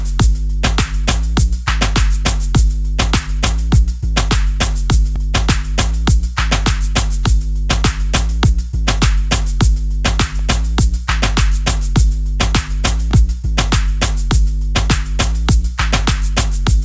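A sidechained 808 bass and kick drum pattern made in FL Studio with the limiter bypassed: a loud, steady hip-hop beat with booming low bass pulsing and ducking under regular punchy kicks, alongside hats, and no talk.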